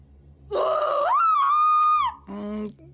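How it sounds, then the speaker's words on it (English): A woman screams in the video game What Remains of Edith Finch, a scream-queen actress testing her scream: a strained, wavering shriek that rises and holds for over a second, then a lower groaning cry, loud and close. "Unfortunately, her scream hadn't aged well."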